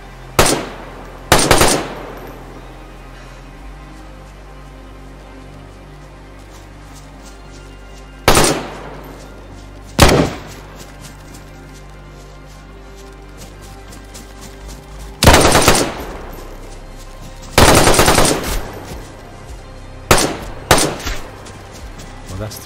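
Loud bursts of gunfire in the DayZ survival video game, several sharp volleys spaced irregularly across the stretch, some short and single, others rapid and sustained, over a quiet ambient background.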